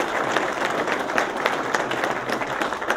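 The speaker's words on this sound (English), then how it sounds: "let's give our staff just a round of applause for everything they do for us," A crowd at a golf teaching summit claps steadily, a dense patter of applause filling the room at an even volume throughout.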